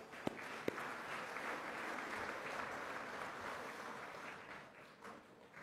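Team clapping for themselves at a football club awards night, a soft, steady patter of applause heard from some distance, opening with a couple of sharper claps.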